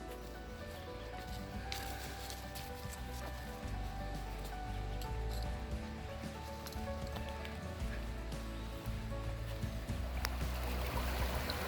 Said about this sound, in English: The sound of running water is sure going to help us sleep good tonight.